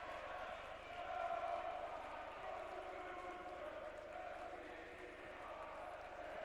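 A college basketball crowd fills the gym during the OAC Tournament Championship between Baldwin Wallace and John Carroll, a faint, steady, distant roar of murmuring and cheering under a commentator's voice.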